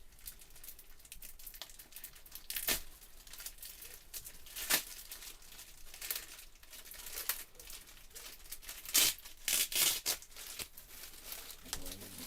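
A package being torn open, with repeated crinkling and tearing bursts of paper or plastic up close, some sharp and loud, spread through the stretch between quieter handling noise; a few voices are heard faintly.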